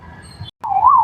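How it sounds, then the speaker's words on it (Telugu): An ambulance siren in Hyderabad traffic, a loud, close electronic wail that breaks off for a moment, then returns with a rising and falling tone. "ఈ ట్రాఫిక్ లో అంబులెన్స్ కూడా సైడ్ ఇవ్వలేని పరిస్థితి ఉంది హైదరాబాద్ లో"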